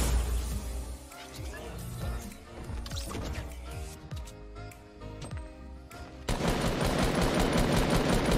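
Rapid bursts of automatic gunfire from a first-person shooter game, rattling continuously and loud, with clinks and crashes mixed in and players talking excitedly over the shooting.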